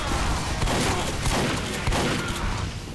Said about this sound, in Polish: No, ale piękne centralne strzały.